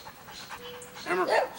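A tired dog pants in quick, breathy bursts during an obedience training session, with a brief vocal sound rising louder near the end.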